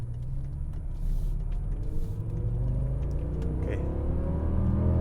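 A BMW E64 M6 driven in SMG mode gives a steady low engine rumble with continuous road noise, holding fairly level and loud throughout, with faint voice-like sounds in places.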